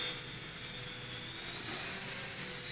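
A Silverlit Metal Copter toy helicopter at full throttle gives a steady, high-pitched electric whine and rotor whirr, close and unbroken, with no talking.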